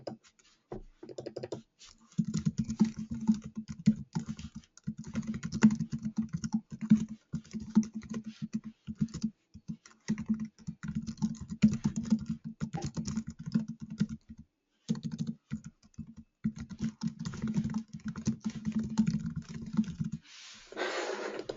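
Steady, rapid typing on a computer keyboard during a website-building webinar, a close, dense patter of key clicks with a few short pauses, no voices.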